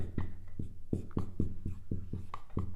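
Chalk taps and strokes on a board in quick irregular bursts, about a dozen short knocks and scrapes close by during a math lecture, with no talking.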